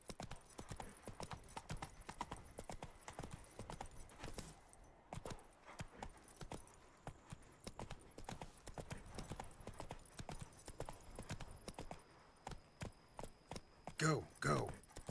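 Roach the horse gallops in The Witcher 3, hooves clip-clopping in a quick, steady rhythm close by. A brief whinny rises near the end, and voices speak over parts of it.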